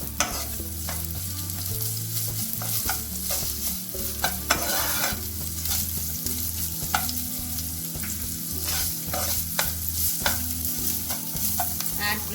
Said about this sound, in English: fry chopped onion, add grated ginger